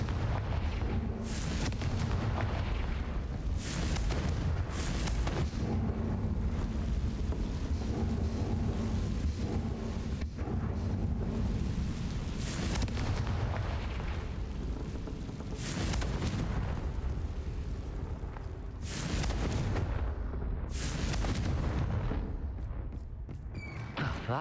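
Confringo fire spell explosions in the video game Hogwarts Legacy: repeated heavy booming blasts over a continuous loud rumble, with no voices.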